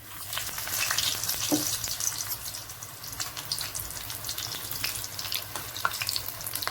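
Spinach leaves dipped in batter for palak pakoda sizzle and crackle steadily in hot frying oil, a continuous close frying hiss with occasional sharper pops and no voices.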